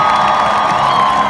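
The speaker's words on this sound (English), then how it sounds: "Can we please give a great round of applause to all of the volunteers" A crowd at a Women's March rally in Los Angeles applauding and cheering steadily, a dense continuous wash of clapping with no voices standing out.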